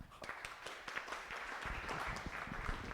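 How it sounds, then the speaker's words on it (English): Applause from a small meetup audience: scattered individual claps at first, then building into fuller, steady clapping, fairly quiet overall. "Round of applause."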